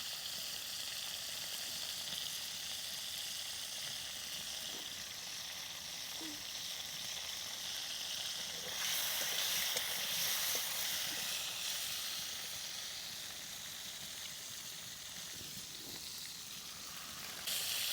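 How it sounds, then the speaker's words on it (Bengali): Kuche eel fish fry in hot oil in a pan with a soft, continuous sizzle, brightening into a stronger crackling hiss midway, heard close and fairly quiet with no talking. "দেখুন মাছটা কত সুন্দর ভাজা হচ্ছে।"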